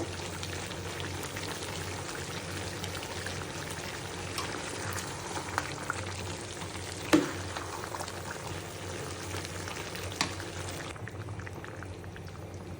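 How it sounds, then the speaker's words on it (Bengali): Water is poured into a cooking pot of simmering bottle gourd and chickpea lentils with minced meat, giving a soft, steady liquid gush and bubbling that stays fairly faint, with a few small clinks. "এখন পানি দিয়ে দিব"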